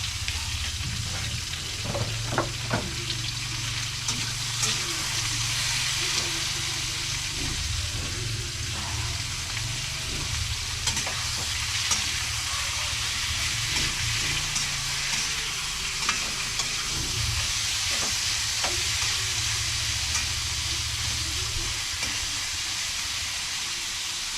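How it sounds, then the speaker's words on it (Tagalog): Meat sautéing in a pan while cooking bihon: a steady, loud sizzle and hiss throughout, broken by occasional scraping stirs and clinks, with no talking. "Igisa muna natin"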